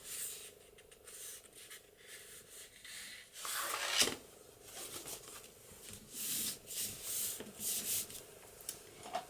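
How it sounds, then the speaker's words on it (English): A bone folder burnishes paper down on a junk journal page, making soft, repeated rubbing and scraping strokes, close and fairly quiet, with a louder sweep near the middle. "Use my bone folder, burnish that down"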